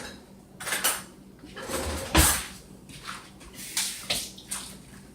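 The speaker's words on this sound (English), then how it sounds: "Hold on, let me get another spoon." A spoon and dishes handled in a home kitchen while making bread pudding: clinking metal and scraping crockery come in irregular bursts, close by, with a soft background hum.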